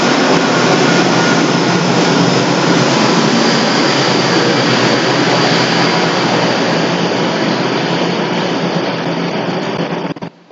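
A train rolls past a house near a railway station, a loud, continuous broadband rumble and roar holding steady for about ten seconds before cutting off.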